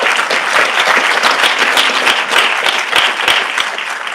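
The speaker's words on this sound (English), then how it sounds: "one more round of applause for AC Prep" Audience at an AC Prep Elementary board meeting claps in sustained, even applause, loud and close, with no talking over it.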